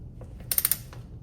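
A wrench briefly loosens the oil drain plug on a 2022 Royal Enfield Himalayan 411 motorcycle, giving a quick burst of four or five close, sharp ratcheting clicks.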